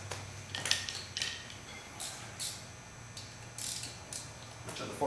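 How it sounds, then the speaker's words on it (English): A 3/8 drive ratchet, or a 14mm ratchet, removes a car's front brake caliper mount bolts with quick bursts of close clicking pawl in several short runs and pauses between them. "So we can either use a 14mm ratchet, or we can use a 3/8 drive ratchet instead of a 14mm wrench."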